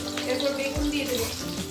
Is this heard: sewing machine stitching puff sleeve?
no